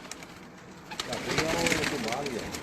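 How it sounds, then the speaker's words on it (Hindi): Pigeons coo softly in low, warbling rolls on a rooftop at night, with a voice murmuring faintly alongside and light background noise. "ये भी सारे कबूतर ने माशाल्लाह।"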